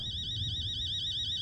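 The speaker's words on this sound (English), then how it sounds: "No way, that's my alarm clock sound." An alarm clock in the horror game Fears to Fathoms beeps in a steady, unbroken electronic tone, faint and fairly distant, over a low background rumble.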